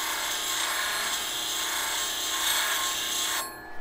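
A woodturning tool is sharpened in a jig against a grinder, making a loud, steady abrasive hiss and rasp that carries on evenly before dropping away near the end.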